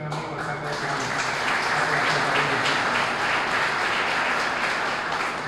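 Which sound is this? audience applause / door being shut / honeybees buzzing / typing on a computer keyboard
audience applause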